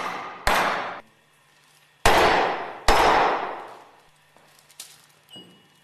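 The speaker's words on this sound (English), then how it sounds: "Carefully hammer the clutch driver into the grooved ball bearing with light blows using a rubber mallet." Three heavy thuds in a row from a rubber mallet tapping a clutch driver into a grooved ball bearing during a Westfalia OSD purifier overhaul, each ringing out briefly, followed by a few lighter taps in a quiet room.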